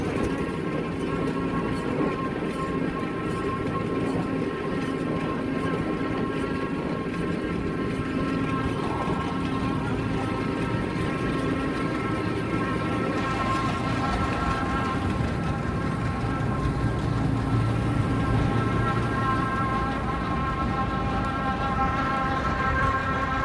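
An old hay-raking tractor runs on test ahead of raking, its power takeoff shaft slightly bent; a steady, close mechanical drone with strong harmonic tones holds throughout with no talk.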